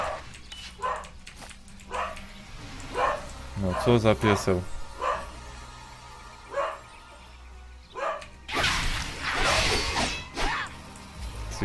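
A dog in the TERA Online video game barks in repeated short yips, with a whimpering run in the middle and a loud crash near the end, while someone talks over it.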